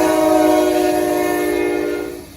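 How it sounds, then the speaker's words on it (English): A train on a railway line in the Dayton, Ohio area sounds a loud, sustained multi-tone horn, close and steady before fading toward the end. "In communities all over the Dayton area, you don't have to wait long to see a train come by."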